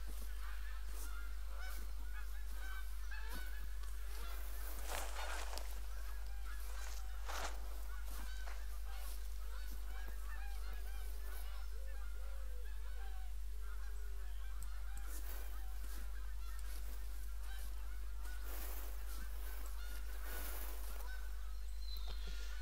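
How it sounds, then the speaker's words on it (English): Geese honk repeatedly across a wide natural setting in the hunting game The Hunter: Call of the Wild, with several birds calling near and far over a steady outdoor ambience. "Getting loads of more goose calls over this way."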